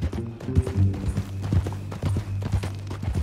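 Steady clip-clop of horse hooves trotting in Red Dead Redemption 2, with a low droning tone and some muffled sounds underneath.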